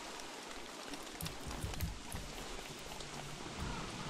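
Steady rain falls in Don't Starve Together, a dense, even hiss of drops with no talk, holding at a constant level throughout.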